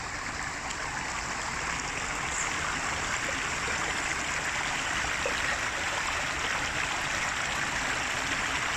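Continuous flowing water in Central Park, New York City, burbles and rushes steadily nearby, an even, unbroken wash of sound with no voices.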